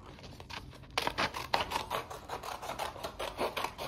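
Scissors or a blade cut across paper being shaped into a model rocket nose cone, a close, steady rasping run of strokes that gets louder after the first second.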